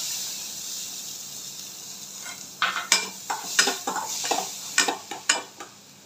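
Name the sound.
chopped onion frying in butter in a kadai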